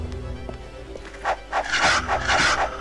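Gray wolves in the game Might & Magic 9 growl and snarl in short, rough bursts that grow louder toward the end, with a low ambient drone underneath.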